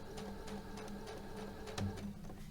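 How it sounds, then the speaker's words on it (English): A sewing machine stitches chain-pieced fabric, a quiet, steady rapid whirring with rhythmic needle clatter running continuously, close and alone. "And sew through."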